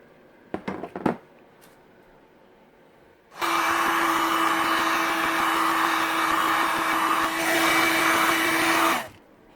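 A heat gun warms a plastic corner on a tool box so it can be bent back into shape, a loud, steady blowing hum for about six seconds, preceded by a few close clicks and handling noises.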